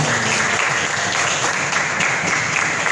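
Audience applause in a classroom-style quiz session, loud, dense and continuous clapping that stays even for three seconds, with no voices over it.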